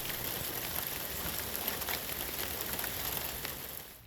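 Steady rain falling outside a parked vehicle near the South Branch of the Harris River, an even hiss of drops on the roof and surroundings with no voices.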